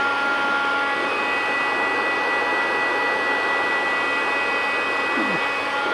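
Heat gun blowing a steady, loud airflow roar while shrinking adhesive-lined heat shrink onto a marine battery cable terminal lug, constant and close throughout with no talking.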